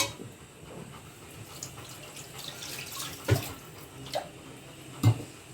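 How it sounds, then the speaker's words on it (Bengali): Water, about two cups, is poured into a kadai to rinse spices for mutton, a soft steady trickle with a few small splashes, quiet and close with no talk. "এবার আমি এই কড়াইতে একটু জল দিয়ে দিচ্ছি"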